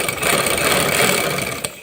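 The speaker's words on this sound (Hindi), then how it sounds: "बिठाने के बाद आप इसकी सिलाई जो है ना मशीन से लगाना स्टार्ट करें।" Sewing machine stitching a creased garment seam, a steady, loud, close mechanical whir running continuously for about two seconds without talk.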